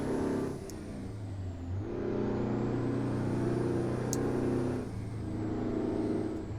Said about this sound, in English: What could be better than a two-stroke working its ring out?